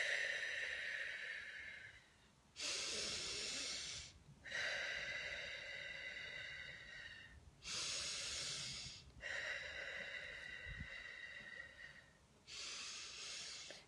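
Slow, deliberate breaths, drawn in through the nose and pushed out through the mouth, come as long airy rushes separated by short pauses, close and clear, with no talking.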